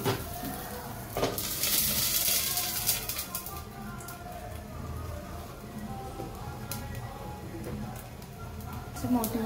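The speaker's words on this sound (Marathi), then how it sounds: "छान झाकण काढून जे आहे आपण मस्त दोन्ही साईडनी भाजून घेऊया" Sabudana thalipeeth for a Navratri fast roasting uncovered on a hot pan, a steady close sizzle and crackle running throughout, with a voice talking over it.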